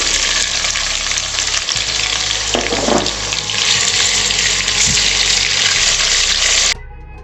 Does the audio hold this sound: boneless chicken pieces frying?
yes